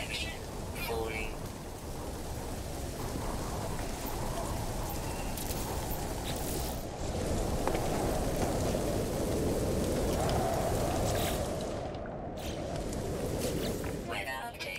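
Stormy weather in No Man's Sky: a steady, dense wash of rain and wind noise fills the whole stretch at moderate level, with a voice speaking over it.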